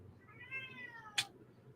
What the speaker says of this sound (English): And my stupid cat just won't shut up.